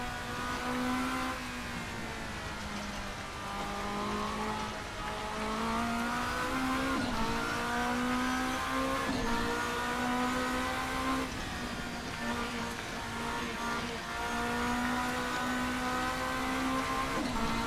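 Ferrari race car engine in a sim racing game on board at Canadian Tire Motorsports Park, a steady high-pitched roar rising and falling through gear changes and revs throughout, with no talk.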